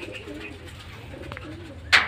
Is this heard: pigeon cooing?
yes